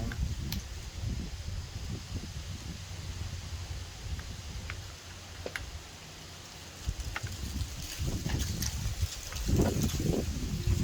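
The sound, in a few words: wind blowing outdoors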